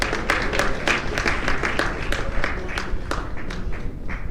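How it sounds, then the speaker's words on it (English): Applause from an awards ceremony audience: dense, steady clapping from many hands, loud and sustained throughout without any voices. "A round of applause for"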